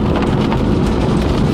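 Heavy rain hits a Ford Mustang Mach-E AWD as it drives, a dense, even roar of rain and road noise that stays loud and constant with no voices.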